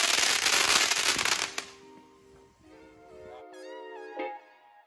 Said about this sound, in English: this crackle really caught me off guard with how strong it is